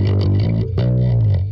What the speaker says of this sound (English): if you want to do like biting this, you get a lot more of the bite, more of the distortion.